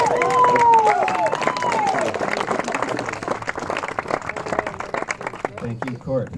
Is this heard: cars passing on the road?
no